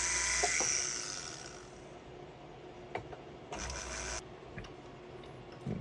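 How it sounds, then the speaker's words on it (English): A small rubberized abrasive wheel grinds flashing off a metal necklace, giving a whirring buzz that fades, then short intermittent bursts against quiet pauses. "come in here with this little rubberized abrasive wheel, and let's just kind of get all my little flashings gone"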